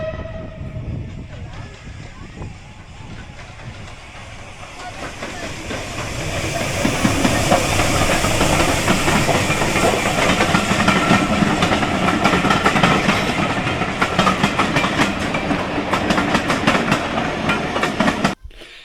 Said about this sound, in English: a steam train, I love a steam train